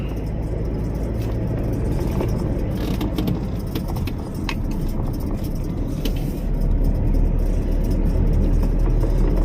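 A car comes up from behind on a rural road in Sakon Nakhon with Phu Phan mountains alongside, heard as a loud, steady rumble of engine and road noise that swells toward the end.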